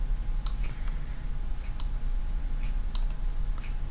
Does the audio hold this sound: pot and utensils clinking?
no